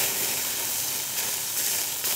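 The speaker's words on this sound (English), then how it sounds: "We're gonna be going from a very high temperature where we're searing off the outside" A ribeye steak sears on a very hot grill, giving a steady, bright sizzling hiss that holds at an even moderate level throughout, with no voices.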